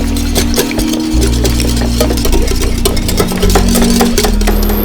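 Egg being beaten with turmeric powder in a bowl, a steady stream of quick clinks and stirring taps close by over a constant low hum, with no talking.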